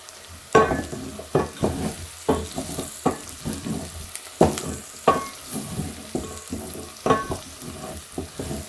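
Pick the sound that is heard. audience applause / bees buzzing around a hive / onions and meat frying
onions and meat frying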